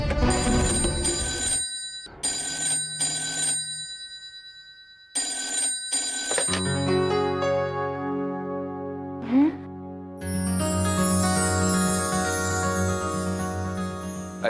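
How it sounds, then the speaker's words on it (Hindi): An old-style telephone bell rings in several loud, evenly spaced bursts with short silences between, then a sustained electronic tone and music-like swell take over toward the end. "एक ही रिंग में फोन उठा लिया।"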